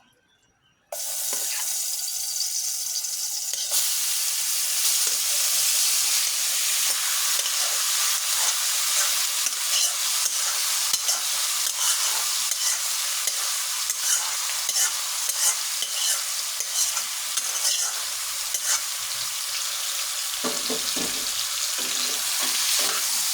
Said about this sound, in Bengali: এখন এই মাংসটা আমি এই তেলের মধ্যে দিয়ে দেবো।